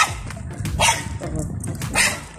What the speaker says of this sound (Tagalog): Tahol lang siya ng tahol.